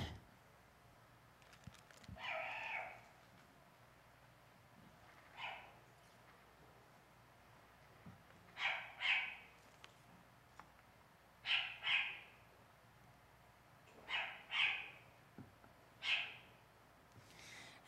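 Calls of a small-tufted, yellow-eyed Arctic ground-nesting owl, cat-like in tone: several short, bright call bursts that often come in pairs, spaced a few seconds apart over quiet background hiss, moderately near.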